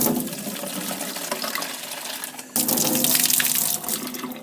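Water poured from a tap into a bucket for watercolor painting, a steady close rushing splash that grows louder and brighter midway as the flow increases, with no talk.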